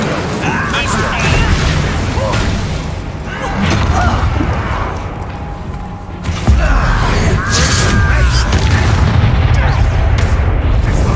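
An Incendio fire spell is cast in Hogwarts Legacy, giving a loud whooshing burst with booming, crackling blasts amid dense battle noise that dips briefly and then surges back.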